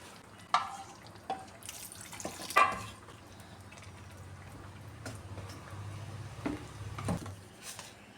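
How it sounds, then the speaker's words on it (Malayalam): Water splashes and drips into a pot of Kerala-style roasted-coconut breadfruit curry in a few bursts, with quiet bubbling and faint utensil knocks in between. "കുറച്ച് വെള്ളം കൂടെ ഒഴിച്ചു കൊടുക്കാമേ"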